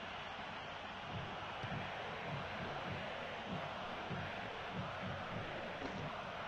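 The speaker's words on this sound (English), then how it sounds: "Look at the crowd. They're really into this. It's a real atmosphere here at the San Siro." A stadium crowd at the San Siro in the football video game PES 2013, a dense, steady roar of many voices with rhythmic chanting pulses, continuous and moderately loud.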